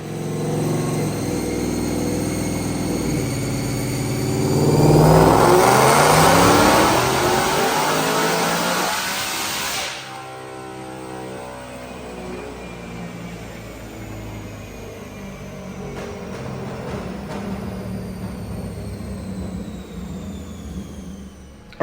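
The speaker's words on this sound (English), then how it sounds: "Check out this dyno pull." A supercharged 2022 Ford Mustang Mach 1 engine, automatic, running E85 on a dyno, revs hard and climbs in pitch for about ten seconds, then cuts back and winds down with a lingering whine.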